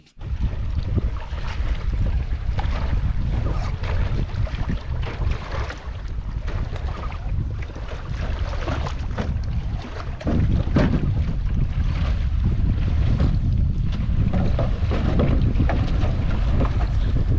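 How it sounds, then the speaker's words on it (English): Steady, loud wind buffeting the microphone on an island campsite in the Canadian wilderness, a constant low roar with gusts and no voices. "It's a little windy on this side here."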